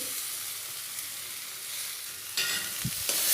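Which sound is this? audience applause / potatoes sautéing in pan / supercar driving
potatoes sautéing in pan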